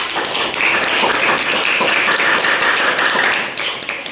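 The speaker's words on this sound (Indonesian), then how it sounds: "tepuk tangan buat Bapak." A classroom of students claps for a presenter, loud, close hand clapping with individual sharp claps audible in the mix, sustained evenly before dropping off near the end.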